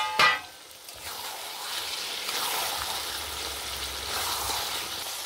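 Chicken meat frying and being stirred in a pan, a soft continuous sizzle with a brief clank of the spoon at the start, fairly quiet throughout.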